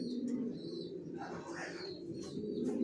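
A pair of young silver racer pigeons coo with a steady, low, soft murmur close by, with a few thin chirps breaking through.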